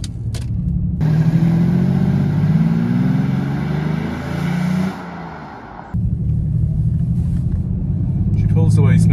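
A 1994 Mercedes 600SEC with its 6.0-litre V12 engine starts up and pulls away, a steady low rumble that eases off briefly mid-clip before returning just as strong, with no one talking.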